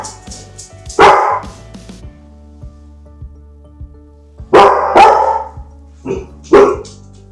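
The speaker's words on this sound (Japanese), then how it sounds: "犬たちがちょっとはしゃいでましたけれども" Several dogs in a home bark excitedly in short bursts, a cluster of loud, close barks early and another group later, separated by near silence with a faint low hum.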